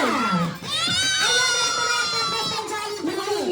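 A group of children at a seventh birthday party with a Jollibee mascot shout a loud, drawn-out yay together, their high voices rising and holding before breaking into scattered shouts.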